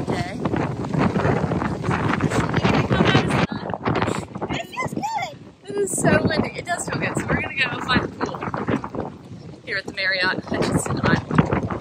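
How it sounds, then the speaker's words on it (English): Strong wind buffets the microphone at a boat dock with a tidal harbour, a constant roar under someone talking throughout. "it was windy like this. This is crazy wind."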